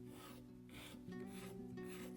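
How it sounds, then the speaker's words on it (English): Short rasping strokes of 220-grit sandpaper rubbing against a wooden bow, close up, in a quick back-and-forth rhythm over a low background hum. "I start sanding with 220 grit sandpaper."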